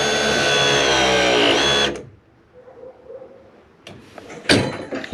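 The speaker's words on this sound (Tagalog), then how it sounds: "It's a ProPress. This is the best machine I ever encountered." A ProPress pipe pressing tool runs with a loud, steady motorized whir for about two seconds during a shower valve installation, then cuts off, followed by quiet shuffling and a couple of sharp clanks near the end.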